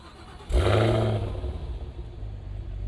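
A 2026 Cadillac Escalade V's 682hp V8 engine cranks and roars to life with a deep rev, then drops to a rumbling idle close by.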